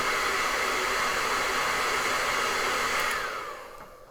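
Hair dryer blowing on wet glazing paint on an eagle painting, a loud, steady whooshing roar held for a few seconds before it winds down and fades at the end.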